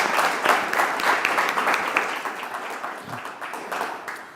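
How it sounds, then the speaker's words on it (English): A panel audience applauds its moderator: a full, close round of many hands clapping that peaks early and then gradually thins and fades toward the end. "Let's give him a round of applause."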